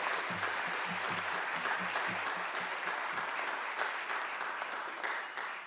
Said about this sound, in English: Let's give a round of applause for the California Poetry Out Loud County Champions of